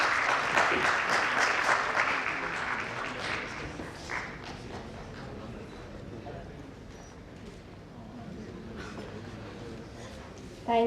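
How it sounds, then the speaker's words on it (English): A conference audience at a sports and exercise medicine session gives a sustained round of applause, strongest at first then thinning to scattered claps over several seconds, with a faint voice underneath. "A huge round of applause, please."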